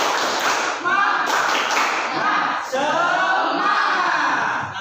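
A class of students claps the rhythmic 'tepuk semangat' pattern in a classroom, bursts of hand claps mixed with loud chanting voices in unison, pausing briefly before resuming.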